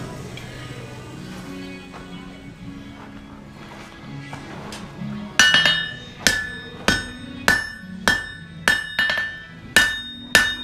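Hot steel being hammered flat into a knife blade while forging, with a steady series of sharp, ringing metallic strikes about every half second. Quieter shuffling and clinks come first, and the blows are close and loud.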